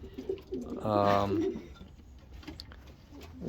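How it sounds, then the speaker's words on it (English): Racing pigeons coo inside a breeding loft, a single soft throaty call swelling for about half a second near the middle, then quiet rustling loft ambience. "we have two birds that were given to me by John Rakolka"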